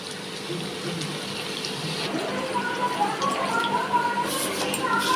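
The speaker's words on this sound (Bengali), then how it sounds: "এবার আমি দিয়ে দিচ্ছি জল" Water is poured steadily into a cooking pot of softened ash gourd and potato for a mung dal dish, a continuous close splashing gush lasting the whole moment.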